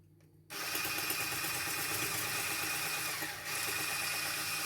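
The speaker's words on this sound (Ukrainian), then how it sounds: "Я буду збивати міксером, збиваємо до такого білого-білого стану" Electric hand mixer whipping batter for a simple chocolate cake, switching on after a brief quiet start and running as a steady loud whir, with a short dip near the end before it continues.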